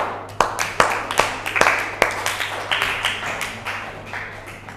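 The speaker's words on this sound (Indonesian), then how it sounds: "oke, tepuk tangan." Scattered, uneven hand claps from a small classroom group, a dozen or so sharp claps fading out over a few seconds, with no one talking over them.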